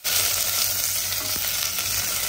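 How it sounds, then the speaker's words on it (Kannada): Red chillies and curry leaves frying in hot oil in a pan, a bright continuous sizzle that starts abruptly and stays loud and steady, close up with no talking. "ಅದ್ರ ಜೊತೆಗೆ ಕರಿ ಲೀವ್ಸ್ ಕೂಡ ಹಾಕಿ ಚೆನ್ನಾಗಿ ಫ್ರೈ ಮಾಡ್ತೀನಿ"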